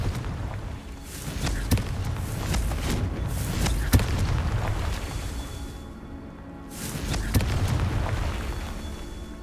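Repeated magical Confringo blast spells in Hogwarts Legacy, booming explosions landing every couple of seconds over a dense, rumbling game soundscape with sharp bursts and a brief quiet dip.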